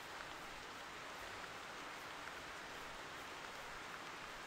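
Rain falls steadily in the hunting game theHunter Classic, a faint, even hiss of drops that holds constant throughout, with no voices present.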